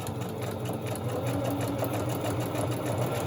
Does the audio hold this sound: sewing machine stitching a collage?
yes